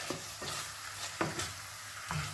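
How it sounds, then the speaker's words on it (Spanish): Chicken quesadilla filling stirred in a pan over gentle heat, a soft steady sizzle with several spoon scrapes and taps spaced about half a second apart, close and quiet, with no talking. "Lo vamos a mezclar así todo, que vaya cogiendo el sabor y el color."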